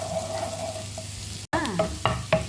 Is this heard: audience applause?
no